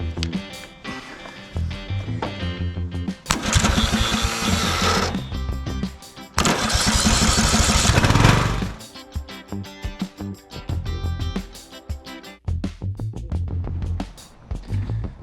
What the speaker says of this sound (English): Finish mowing this lawn, shall we?